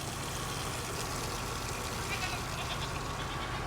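Farm goats, including a mother guard goat, bleat amid steady outdoor noise and a low engine rumble from a nearby bucket truck with a mulcher, the calls mixing with the continuous background.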